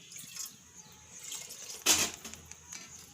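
Water poured into a pressure cooker of seasoned rice, with a faint trickle building to one short, louder splash near the middle before settling back to quiet dribbles.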